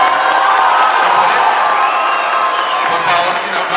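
Loud, sustained crowd cheering and applause from an audience at a gubernatorial candidates' debate in Boyacá, a dense continuous roar filling the room with no pauses.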